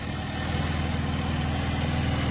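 A time attack car's engine idles close by with a steady low throbbing pulse throughout, and no start is heard.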